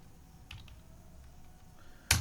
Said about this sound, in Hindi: और यहाँ पर एंटर एंटर प्रेस करना है